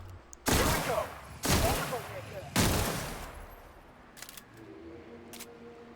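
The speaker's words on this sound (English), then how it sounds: "Oh, this thing fires 6 bullets at once." Three loud, separate blasts from a gun in The Outer Worlds that fires six bullets at once, each about a second apart with a decaying tail, then quieter mechanical clicks and hum of the game.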